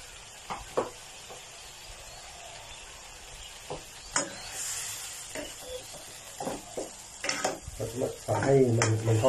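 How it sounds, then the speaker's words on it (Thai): Chicken and curry paste fry and get stirred in a pan, with a steady sizzle, scattered scrapes and knocks of a utensil on the pan, and a louder clatter at the end. A voice talks between the sounds. "ให้มันทอดเนื้อก่อนนะให้พริกแกงทอดเนื้อนิดนึง"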